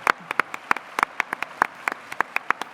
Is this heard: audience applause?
yes